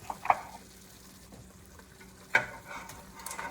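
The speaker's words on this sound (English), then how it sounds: "And we are going to add our meatballs to it." Meatballs dropped into a hot pot sizzle faintly and steadily, with a couple of sharp clinks and stirring sounds near the start and again midway.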